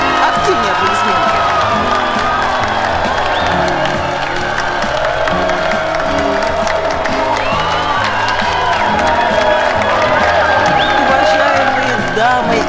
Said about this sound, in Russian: Активнее аплодисменты.